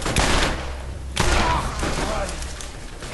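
Revolver fire in the shooter game Borderlands, two heavy booming shots about a second apart, each followed by a decaying roar, loud and close, with other game noise underneath.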